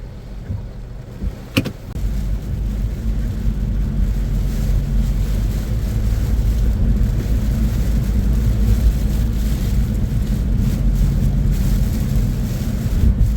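A car driving on a road at midnight, a loud steady low rumble of road and engine noise with wind buffeting on the microphone after a brief click near the start, continuous and close from inside the vehicle, no talking.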